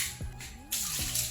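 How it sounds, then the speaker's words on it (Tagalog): Water is thrown across a dusty floor in rapid splashing bursts, loud and close, with short gushes separated by brief pauses. "Kaya magsasaboy na tayo ng tubig"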